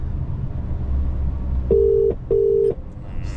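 Mobile phone ringback tone on an unanswered call, two short steady electronic beeps with a brief gap between them, heard over faint background hiss with no talking.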